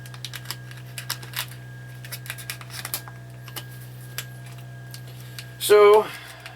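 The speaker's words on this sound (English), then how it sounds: "I did sharpen my knife in the meantime," A freshly sharpened knife cuts garden tomatoes on a cutting board in a homestead kitchen, producing a series of light, sharp taps at irregular intervals over a steady low hum, ending in a louder scrape or rustle.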